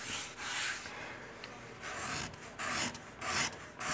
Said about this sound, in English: a hooked scraper, which is what we call this kind with a burr, is nice because, as we mentioned, it has a built-in chip breaker